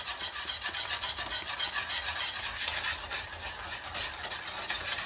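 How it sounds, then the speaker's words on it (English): Steady scraping and rubbing of a whisk stirring cornstarch into gravy for a Jamaican brown stew chicken, a continuous close, fairly quiet rasping churn with no talk. "And then I'm just whisking it, guys, because you know you want to get those lumps dissolved."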